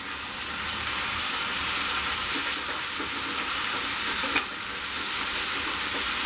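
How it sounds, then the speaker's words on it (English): Ginger and garlic fry in a pan while being stirred, giving a loud, steady, close-up sizzle with occasional scraping strokes. "Ginger and garlic. Give it a mix."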